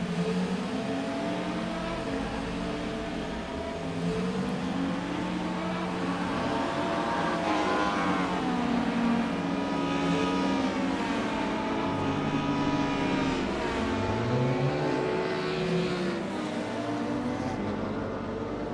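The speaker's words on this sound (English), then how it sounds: "I just want to say the noises on this car are insane." A race car engine in the racing game RaceRoom Racing Experience roars steadily, its pitch sweeping up and down as it revs and shifts gears, loud and continuous.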